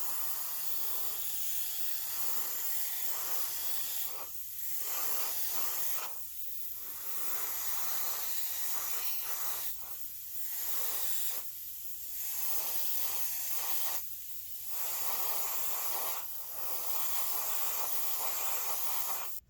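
Spray can hissing as clear top coat goes onto a painted slot car, steady close bursts broken by short pauses between passes, with no talking.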